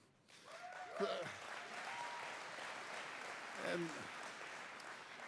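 Applause and cheering from a political rally crowd in Halifax, Nova Scotia. A sustained wash of clapping swells twice, with a voice speaking over it.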